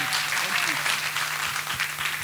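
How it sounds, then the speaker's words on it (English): Congregation clapping in a church service, a steady dense wash of applause throughout, with a faint low hum and brief voices beneath. "Make the clapping wonderful."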